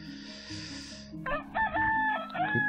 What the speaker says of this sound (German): Kikeriki macht er.